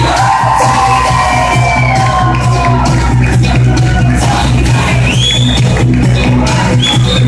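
Loud, continuous applause and cheering from a wedding reception crowd as the bridesmaid and flower girl enter, with whoops and shouts riding over dense clapping throughout.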